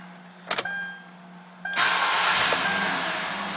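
A Kia Rondo with a hard-start, extended-crank fault, its engine quietly running and then switched off, with a brief clunk and a whining electrical hum that rises into a steady hiss near the end.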